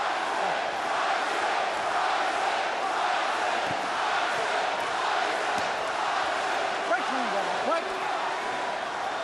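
Boxing arena crowd at the Mike Tyson versus Danny Williams fight, a continuous loud roar of spectators with rising cheers and shouts, under a commentator's voice.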